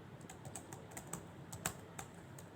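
Keys on a computer keyboard are tapped in an irregular run of light clicks, with a few sharper strokes, faint and close against a quiet room with no voices.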